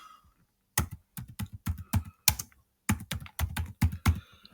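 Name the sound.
typing a video title on a computer keyboard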